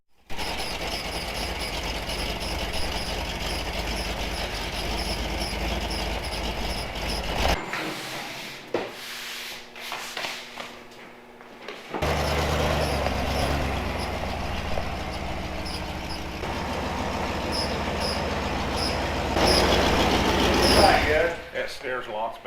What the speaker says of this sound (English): Alright, so the Jeep drives.